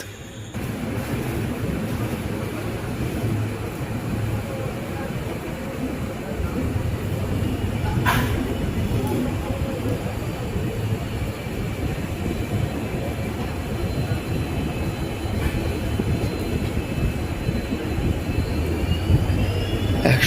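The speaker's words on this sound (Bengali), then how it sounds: "ভোর তিনটে সাঁত্রিশ মিনিটে আমাদের এই কান্ডার এক্সপ্রেস ট্রেনটি এসে দাঁড়ালো" The Kandari Express rolls into a station before dawn, a long, steady low rumble of rail cars that hums on for twenty seconds with faint metallic squeals and a couple of sharp clanks.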